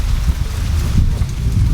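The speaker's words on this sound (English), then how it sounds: "is it raining?" Steady rain falls outdoors among lilacs, a dense, loud, continuous patter and hiss with no pauses and no voices over it.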